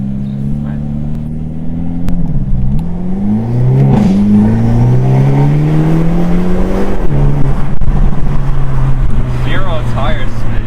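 A Hyundai Elantra N launches and accelerates hard, its engine note rising steadily through the revs with a gear change partway. It is loud and close, and voices talk underneath.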